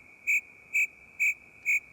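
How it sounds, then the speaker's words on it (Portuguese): A cricket chirping: four evenly spaced, bright, clear pulses, close and steady, with no other sound around them. "Tá ouvindo o barulho do grilo?"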